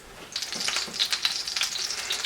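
A chicken parmesan cutlet frying in a pan, with a steady close sizzle and crackle, and occasional faint stirring sounds beneath.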